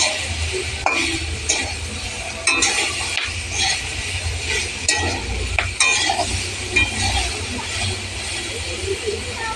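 Turmeric sizzles faintly in a pan with lentil dal for a masoor dal with drumsticks and mango, amid scraping stirs and clattering utensil knocks at irregular intervals, fairly close.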